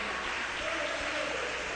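A church congregation claps hands together in worship, a dense, sustained wash of applause that runs steadily throughout without pause.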